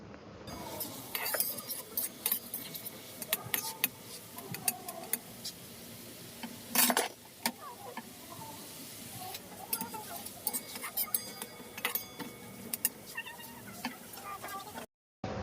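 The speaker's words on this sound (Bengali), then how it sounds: "পরিমাণ মতো লবণ দিয়ে আমি মশলাটাকে ভালোভাবে কষিয়ে নিব" Salted spice paste for a pointed gourd and prawn dish frying in a pan, with near-constant clinking and scraping of a metal spatula against the pan over a faint sizzle, a louder clatter midway.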